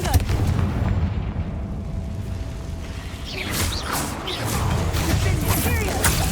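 Spell explosions from the Confringo fire spell in the Hogwarts Legacy video game, a dense run of booming blasts and crackling impacts over game music, with voices speaking throughout.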